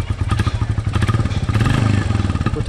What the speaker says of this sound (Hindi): बाइक हो गई स्टार्ट,